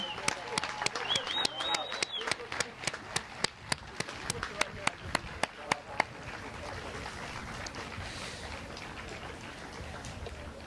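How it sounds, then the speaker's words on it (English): A crowd claps at a health and safety expo tied to a run/walk event. Sharp, evenly spaced claps ring out for several seconds, then fade into a softer, scattered crowd murmur. "Round of applause, come on."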